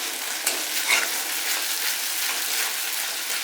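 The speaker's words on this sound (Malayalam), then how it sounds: "നന്നായിട്ടൊന്ന് ഇളക്കി നന്നായിട്ട് മിക്സ് ചെയ്യുക" A tomato curry with sugar stirred in a pan sizzles and bubbles in a constant close hiss, with soft scraping stirs and a few small clinks.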